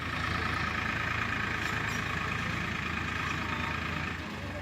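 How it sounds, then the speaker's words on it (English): A tractor engine runs steadily and loudly close by in a Nepalese village farming area, a constant low rumble with no talk over it. "So this tractor nowadays is busy in the field side, village area, farming sector."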